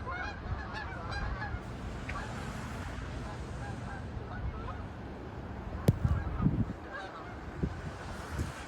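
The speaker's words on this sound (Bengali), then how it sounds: "এই যে অনেক পাখি উড়ে যাচ্ছে, দেখেন পাখি, অনেক পাখি উড়ে যাচ্ছে।" Geese honking as a flock flies over during a snowstorm, repeated calls scattered across the clip and growing louder near the middle, with a steady wind-like wash behind them.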